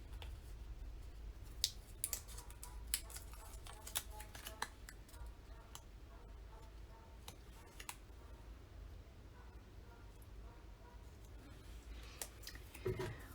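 Scissors trimming around a scrapbook sticker produce faint, close, irregular snips and clicks, scattered at an uneven pace over a quiet low hum.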